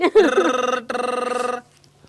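A telephone rings in two bursts of rapid, evenly pulsing tones with a brief gap between them, then stops, in a domestic comedy scene.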